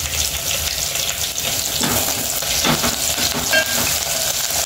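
Onions, coriander and ginger-garlic paste fry in a pan with a continuous close sizzle and a few stirring scrapes, heard alone without talk.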